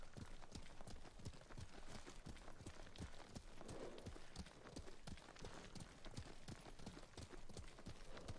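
Horse hooves from the PS4 game Ghost of Tsushima beat out a steady, quick clip-clop rhythm, faint and continuous throughout with no speech over them.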